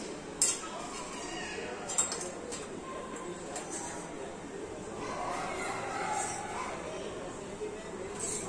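A spoon stirs cardamom powder into jaggery sheera in a pan, with a couple of sharp metal clinks early on and then a steady scraping swirl.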